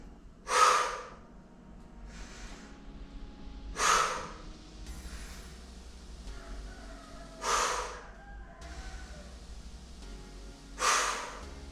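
Heavy breathing during a beginner exercise routine, with four loud, forceful exhales or gasps spaced a few seconds apart over a quiet background, close to the microphone.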